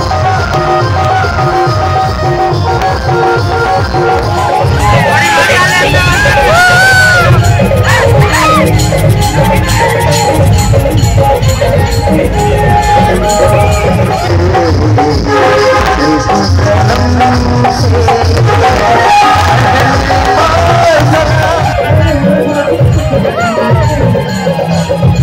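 A packed crowd at a Surungpani natak performance, a loud and constant roar of cheering, shouting and chatter, with children's shouts and music rising through it the whole time.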